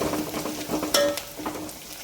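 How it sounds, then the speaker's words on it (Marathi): Green chillies and onion sautéing in hot oil tempering for moong dal varan, a soft steady sizzle with occasional stirring scrapes, close and alone without talk. "याला पण छान असं फोडणीमध्ये छान परतून घ्यायचं आहे कांद्यासोबतच"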